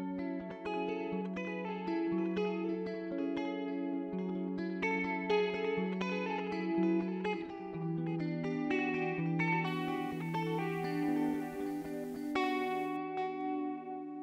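An electric guitar plays a steady, sustained chord and note pattern through a newly restored vintage Space Echo tape echo with fresh tape, rollers and recapping, its repeats blurring into a continuous, shimmering wash with no talking.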